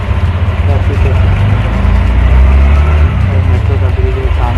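A dense, loud roar of road traffic with rumbling engines fills the air near metro construction in Bandra, while someone talks over it.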